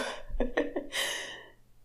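A few quick, close coughs in a row, followed by a breathy exhale that fades out.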